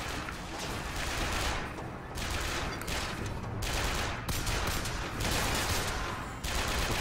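Rapid bursts of gunfire from the ghost gun in BioShock Infinite, dense and loud, repeating in clustered volleys with short gaps, no talk.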